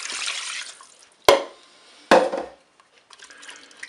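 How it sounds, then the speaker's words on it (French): Broth of stock cube and water poured into a Cookeo pot with browning onions for a smoked pork roast: two short splashing pours with brief sizzle between quieter frying hiss. "je vais ajouter mon bouillon"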